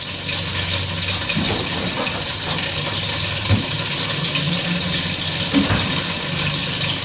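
Drinking water running from a kitchen tap, a continuous steady splashing stream, close and fairly loud, with faint clatter in the background.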